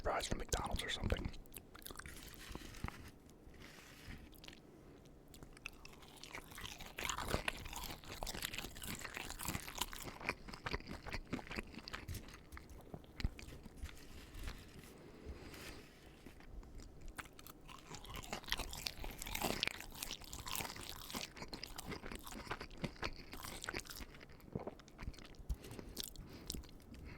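Crunchy fried chicken is bitten and chewed right at the microphone, with loud crackling crunches and wet chewing, and soft whispering in between.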